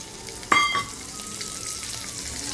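Half a cup of onions drops into hot oil in a pan for a Kumbakonam vatha kuzhambu, setting off a sharp hiss and sizzle that settles into steady close frying.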